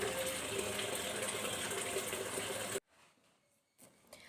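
Water gushing steadily from a tap into a container at home for nearly three seconds, then abruptly shut off, leaving a quiet room with a few faint knocks.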